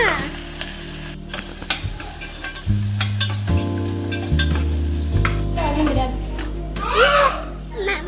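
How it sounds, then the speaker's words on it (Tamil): Chopped large onions sauté in hot sesame oil inside a pressure cooker, a steady close sizzle and stirring that runs throughout beneath prominent background music. "எண்ணெய் சூடானே பெரிய வெங்காயத்தை போட்டுக்கணும். போட்டு நல்லா வதக்கணும்."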